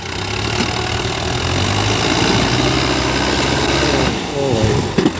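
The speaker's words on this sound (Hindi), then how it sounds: "चलना शुरू कर दिया ट्रैक्टर ने" A Sonalika DI 750 tractor, a 55-horsepower model, runs with a steady throbbing diesel engine drone close by, continuing for several seconds with a few brief knocks near the end.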